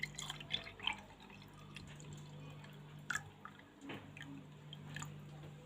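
A homemade tamarind and jujube Ramadan drink is poured and drips faintly, with a few soft splashes and trickles in a quiet room and no one speaking.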